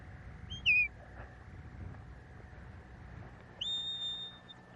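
Two sharp rising-and-falling dog whistle commands during sheepdog training, the first brief and the second longer, each piercing and clear over quiet outdoor background.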